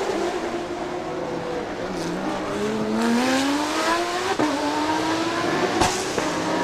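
Race cars in a Thailand Super Series circuit race rev and sweep through gears, engine tones climbing and falling as several cars pass close by, loud and continuous with a sharp burst near the end.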